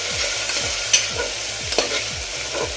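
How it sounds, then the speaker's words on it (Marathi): Garlic and green chilies sauté in a pan for a gavar rassa bhaji, a close crackling sizzle under a regular rhythm of scraping stirs and a few small clinks, with no speech. "लसणाचा आणि मिरचीचा कच्चेपणा जाईपर्यंत हे आपण परतून घेऊया"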